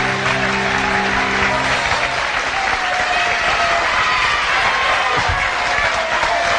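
Applause from a large audience at a Peruvian talent show event, a dense sustained wash of clapping that fills the whole stretch, loud and steady with a faint crowd murmur underneath.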